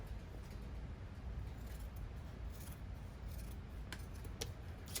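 Scissors trim the bottom edge of a fabric hat for a no-sew gnome, soft quiet snips near the end over a faint background hiss.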